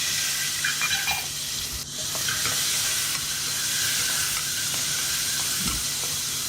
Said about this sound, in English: Fry them a little bit in this lovely tadka.